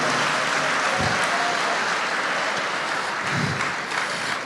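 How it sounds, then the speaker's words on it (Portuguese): A church congregation gives loud, sustained applause, a dense wash of clapping that holds steady for several seconds and then slightly eases, with no talking over it. "Dê para Jesus uma forte salva de palmas."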